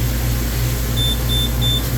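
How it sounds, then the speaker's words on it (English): A Hoshizaki ice machine sounds its three-beep error alert: three evenly spaced, thin electronic beeps ring out over the unit's steady low mechanical hum, with no one speaking. "we got a Hoshizaki ice machine that is giving him a 3-beep error"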